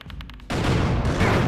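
Gunfire in Killer7: a few faint, quick clicks lead into a sudden loud, sustained burst of shots and roaring blast noise that carries on to the end.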